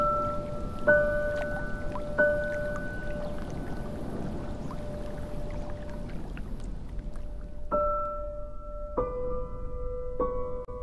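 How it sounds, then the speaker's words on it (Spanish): Rain recorded on a rainy day, a soft, continuous spatter and hiss. Sustained musical tones sound over it in spaced intervals, and no one talks. "Quiero compartir con ustedes un sonido que grabé en un día de lluvia"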